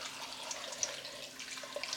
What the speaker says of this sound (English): I'm going to add some water to the pot